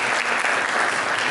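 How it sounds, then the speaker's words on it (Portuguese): Dense, steady clapping from a lecture audience at an agroindustry talk on artisanal Minas Gerais cheeses, filling the whole short burst at close, even loudness. "uma salva de palmas"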